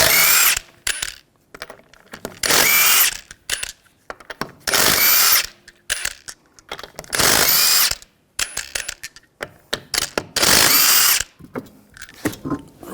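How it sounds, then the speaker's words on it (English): A power tool with a 19mm socket removes wheel lug nuts from a 2003-2009 Subaru Forester, loud whirring bursts repeating four times between clicks, clanks and rattling handling noises, with no talk. "take the lug nuts off"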